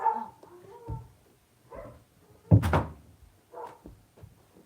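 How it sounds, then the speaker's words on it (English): A dog indoors gives a few short barks and whimpers amid soft household thumps, heard fairly close but fairly quiet, with a person talking intermittently. "my dog's freaking out"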